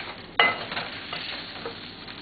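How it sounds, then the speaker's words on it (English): A skin-on fish fillet being turned over in a frying pan: a sudden clatter, then a steady, close sizzle of hot oil that continues to the end. "Okay, so we're turning this fish over"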